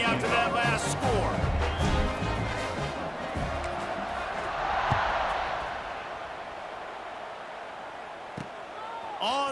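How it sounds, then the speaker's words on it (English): Stadium crowd in the EA College Football 26 game buzzing after a score, a continuous loud roar and cheer that swells and eases, with occasional thuds and game commentary over it. "this crowd is buzzing after that last score"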